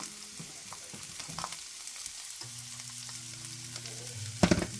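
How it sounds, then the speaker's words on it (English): Onions frying in a pan for a casserole, with a soft sizzle and a few stirring scrapes, ending in a louder clatter near the end. "Now it's time to go ahead and add in the onions."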